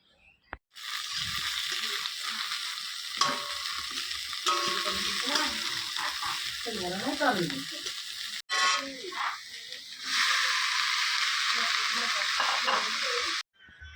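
Maggi noodles boil and are stirred in a pot, giving a continuous bubbling hiss with scraping stirs. A voice talks over it at times, with brief breaks in the sound.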